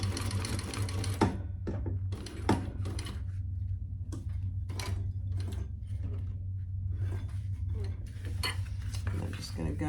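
Sewing machine topstitching both sides of a handmade bag, a steady close motor hum with rapid needle clatter running throughout and brief clicks and handling noises on top.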